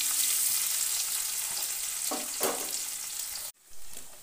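A medium chopped onion sizzles in hot spiced oil in a pan for a Bengali bata fish curry, with a loud continuous frying hiss, a few scraping stirs, and an abrupt cut near the end.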